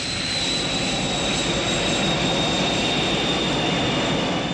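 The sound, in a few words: aircraft engines during takeoff roll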